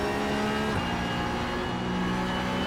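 Porsche Cup race car engine in iRacing, a loud sustained drone with steady harmonic whine that shifts pitch slightly partway through, as if changing gear at speed.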